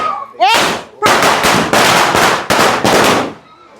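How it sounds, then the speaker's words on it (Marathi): Firecrackers bursting at a Konkan-style Tulasi Vivah celebration in Bhandup: about six loud, close cracking blasts in quick, uneven succession, preceded by a brief whistling rise. "फटाक्यांचा आवाज ऐकू"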